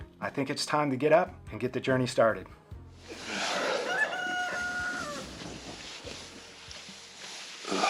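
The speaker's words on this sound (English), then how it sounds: "I hear the roosters crowing." Roosters crowing at dawn near a roadside stop on a Highway 101 motorcycle trip, one long drawn-out crow heard clearly after someone speaks, with faint fowl calls in the background.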